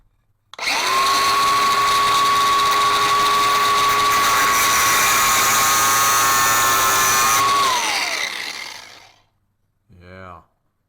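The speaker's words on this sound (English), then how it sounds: "I get a grinder, so I'm gonna grind that down" A DeWalt grinder grinds down a nail with a loud, steady high whine for about seven seconds before spinning down. A short voice follows just afterward.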